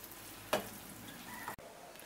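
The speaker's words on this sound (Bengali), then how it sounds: "বাদবাকি সোয়াবিনটাও আমি একই রকমভাবে ভেজে নেব, ঘুরিয়ে ফিরিয়ে ব্রাউন করে ভেজে নেব।" Soybean chunks frying in oil in a pan, a faint continuous sizzle with a sharp stirring scrape and a brief knock, no talking.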